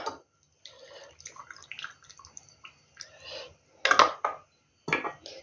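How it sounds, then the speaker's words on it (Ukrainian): Hot water pours and trickles into glass jars of fried peppers in short intermittent bursts, with light glassy clinks and knocks, quiet and close. "І зараз буду заливати гарячою водою кожну баночку"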